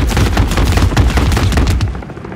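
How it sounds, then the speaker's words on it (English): Dense rapid gunfire and booming blasts from a Call of Duty: Modern Warfare 3 battle with attack helicopters pressing in, loud and continuous for a couple of seconds with no voices. "Attack helos pressing hard!"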